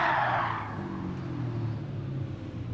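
Lamborghini Countach 25th Anniversary 1988 in a racing video game skids under the handbrake, a loud tire squeal up front fading into a steady low engine drone.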